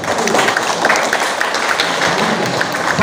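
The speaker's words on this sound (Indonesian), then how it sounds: "Tepuk tangan." An audience claps together during a Ramadan leadership lecture at STKIP Budidaya, a dense, loud burst of applause filling the hall steadily for the whole stretch.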